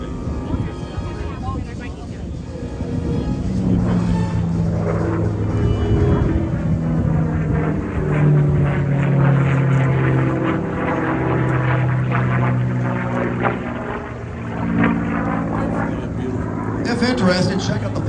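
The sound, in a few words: P-51 Mustang propeller fighter plane flying at air show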